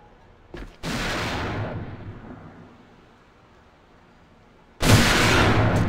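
Two loud bursts of video game gunfire from a scoped rifle and an M4 in an ESL AVA esports match, with a short crack first and then a long booming blast that slowly fades, and a second loud shot near the end.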